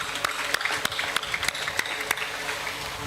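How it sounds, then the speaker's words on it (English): An audience at a formal event gives a round of applause, a steady patter of clapping with a few sharper nearby claps standing out, moderately loud and continuous. "Shall we do a big round of applause for her?"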